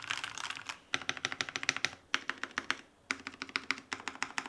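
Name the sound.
typing on Redragon K617 Fizz keyboard with lubed switches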